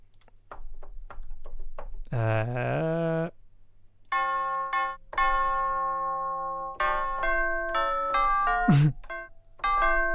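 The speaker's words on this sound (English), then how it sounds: "So I've got some tubular bells and tubular bells. Let's see what that sounds like." Tubular bells from an orchestral percussion sample library ring out in a series of sustained, bright metallic strikes, some single and some layered, with short decays between and a brief voice-like tone mid-passage.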